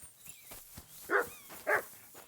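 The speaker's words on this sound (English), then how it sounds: "There's a dog. Dog is here" Dog barking in the medieval game Kingdom Come: Deliverance II, two sharp barks about half a second apart with a few softer yips and whimpers around them, at moderate distance and with no talk over them.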